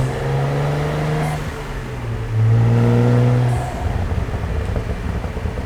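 A Cadillac CT4-V Blackwing's engine and exhaust, miked up from the driver's seat, rev and drone loudly with rising and falling pitch, swelling in a strong pull midway before easing off.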